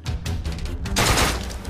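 Tommy gun fire in the video game Deadbolt: a dense, loud burst of rapid automatic shots sweeps in partway through, after a shorter burst of crackling reports near the start.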